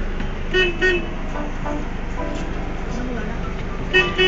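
Short car horn toots sound twice early and again near the end, over busy road traffic and people talking.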